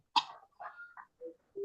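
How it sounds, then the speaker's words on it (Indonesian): A few short, harsh coughs close up, broken into separate bursts with brief pauses between them, no talking. "Saya batuk loh Bu"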